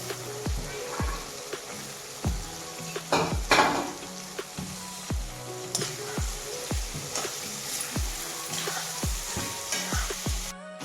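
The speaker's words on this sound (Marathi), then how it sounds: "आपण वाटाणे आणि बटाटे टाकतो" Green peas and potatoes frying in a pan for a pulao, with a steady close sizzle broken by a regular series of sharp scraping and clinking stirring strokes throughout.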